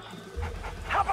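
A dog close by gives short whimpering yips and breathy panting in a brief burst, with speech-like sounds mixed in.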